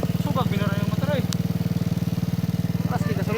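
A motorcycle engine runs with a fast, even chugging pulse, close and loud, while people talk over it.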